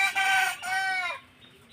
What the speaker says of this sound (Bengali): আমার এই মুরগিগুলো দেখছেন